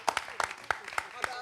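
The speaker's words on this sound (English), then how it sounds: "Give ourselves a round of applause." An audience at a Blackfest gathering applauds with a handful of separate, fairly distant claps spread thinly over a short moment.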